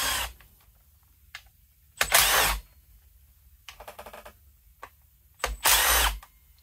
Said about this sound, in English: next we'll go about undoing the top cover bolt